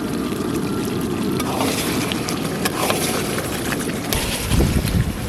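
Goat mutton with potatoes being sautéed in oil in a pan, giving a steady close sizzle and frying crackle that runs continuously, with a brief louder stirring scrape near the end.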